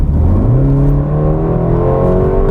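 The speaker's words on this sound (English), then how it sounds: "have a listen to this exhaust" A 2016 BMW 430i Gran Coupe exhaust revs up with a deep, rising engine roar, loud and close, climbing in pitch steadily.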